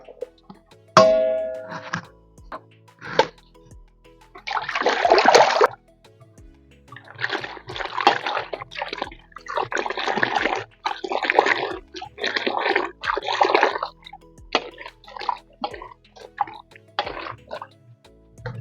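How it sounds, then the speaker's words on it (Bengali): Mushrooms are washed by hand in pond water, with close splashing, sloshing and dripping in irregular bursts as they are swished and rinsed, and an occasional clank of a container. "এবার ছাতুগুলোকে আমি পুকুর ঘাটে গিয়ে ভালো করে ধুয়ে নেব।"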